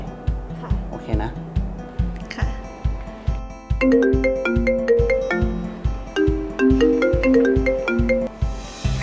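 A phone ringtone plays a bright, repeating electronic melody over a steady pulsing beat for about nine seconds, fairly loud in an office setting, with a person speaking over it.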